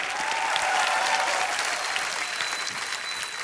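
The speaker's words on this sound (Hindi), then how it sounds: "बहुत जोरदार तालियां हमारे सारे प्लेयर्स" A television comedy show audience applauds loudly for the players, a dense burst of clapping that fades slightly toward the end.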